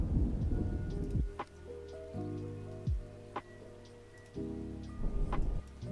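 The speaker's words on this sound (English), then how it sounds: "It's thunder." Rain falls steadily with rolling thunder in a cozy lofi ambient soundscape from Spirit City: Lofi Sessions, several low rumbling thunderclaps swelling and fading over the continuous patter, with no talk.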